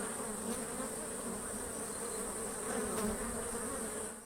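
Honey bees (Apis mellifera) hum in a steady swarm drone that holds at an even loudness for several seconds. No voices are heard.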